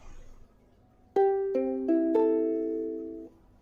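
A few plucked strings build into a slightly sour, out-of-tune ukulele chord that rings out briefly in a quiet room, with no talking.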